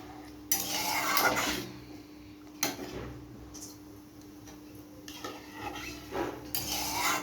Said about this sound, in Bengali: এবার ভালো করে এটাকে নাড়িয়ে নিতে হবে